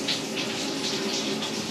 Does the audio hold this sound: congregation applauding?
no